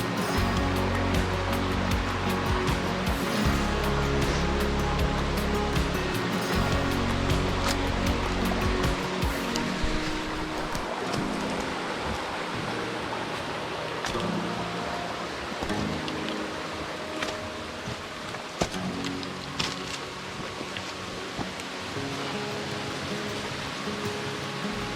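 Cascada Las Mesitas waterfall in Panama, a steady broadband roar of falling water heard close and continuous throughout, with low rumbling thuds in the first nine seconds.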